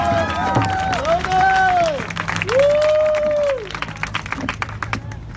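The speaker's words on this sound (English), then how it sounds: "Please give a big round of applause for Moroni Benally." A rally crowd in Salt Lake City breaks into loud, sustained applause and cheering, with rising and falling whistles over dense clapping that fades after a few seconds.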